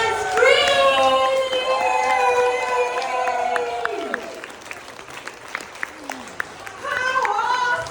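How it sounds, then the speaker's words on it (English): An audience at an awards gala in Singapore claps and lets out loud, high, drawn-out whoops and screams, with the cheering fading and sparse claps continuing before another surge of shouting. "give them a very rounding applause and scream"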